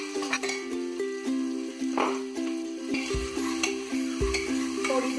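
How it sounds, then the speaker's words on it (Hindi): Sliced onions frying in a pan for shahi malai paneer, with a steady sizzle and repeated scraping strokes of a spatula against the pan. "थोड़ी देर प्याज को चलाएंगे"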